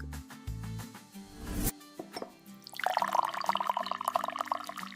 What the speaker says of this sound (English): Pour mango juice from the jug.